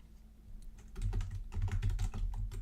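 Computer keyboard typing during a live sports-talk stream, a rapid, irregular run of clicks that starts faintly and grows louder and denser, close to the mic, with no talking.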